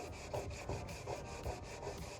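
Sandpaper rubs back and forth over a crack in a bathtub in quick, even strokes, a faint close scratchy rasp with no talking.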